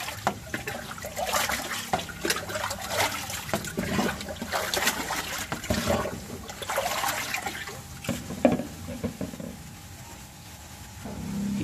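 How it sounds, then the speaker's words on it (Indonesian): Nutrient solution being stirred by hand in a hydroponic water tank, a near sloshing and swirling of water with irregular splashes and trickles that fade to quiet near the end. "Kita aduk-aduk lagi."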